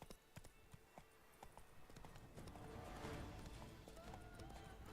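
Rapid clip-clop of a horse galloping in The Witcher 3: Blood and Wine, steady hoofbeats running throughout with game ambience and a faint voice beneath.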